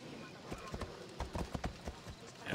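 Horse hooves clip-clop in Assassin's Creed Odyssey, a quick, uneven series of close thuds over a steady game background, with speech heard alongside.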